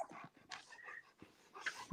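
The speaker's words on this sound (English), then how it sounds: "Is there a dog in here?" A dog whimpers and pants in a short burst of high, whiny cries and breathy huffs, close by and fairly quiet, with no talking over it.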